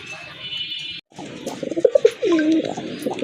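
A pair of local deshi pigeons at a sale coos in low rolling calls after a brief hiss and a short silence, fairly close and clear, with background noise.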